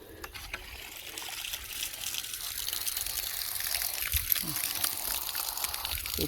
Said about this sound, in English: Alright, water's running over,